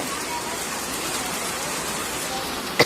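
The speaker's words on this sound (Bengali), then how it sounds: "দেখুন চারিদিকে কি সুন্দর বৃষ্টি হচ্ছে বন্ধুরা" Steady rain pours down as a continuous hiss, with a sharp click right at the end.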